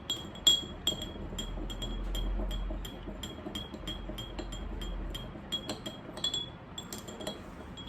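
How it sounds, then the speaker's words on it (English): A spoon stirs salt into a glass of water, producing repeated light metallic clinks against the glass, some sharp and close, in an uneven rhythm over a quiet background. "I'm just mixing it together."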